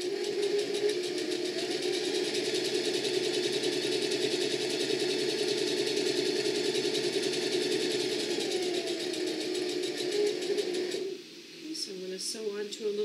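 A sewing machine runs steadily, stitching along the edge of a fabric bowl with an even, close mechanical whir that continues for about eleven seconds, then cuts off abruptly, leaving faint background sounds.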